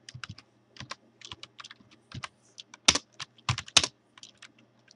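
Keys clatter in quick irregular bursts as a command is typed on a computer keyboard into a Fedora Linux terminal, close and clear, with the strongest strokes near the end.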